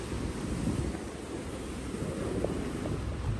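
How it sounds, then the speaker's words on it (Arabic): Sea waves washing against the shore of Kınalıada island off Istanbul on a choppy day with high waves, a steady broad rush of surf mixed with wind buffeting, continuous and fairly loud with no voices. "وشوية الموج قلت لكم اليوم عالي"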